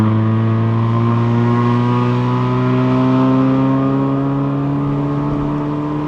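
A 2020s facelift GK5 Honda Fit RS with six-speed manual transmission climbs a mountain road toward Genting. Its engine drones loud and steady, with the pitch rising gradually under sustained throttle rather than short blips.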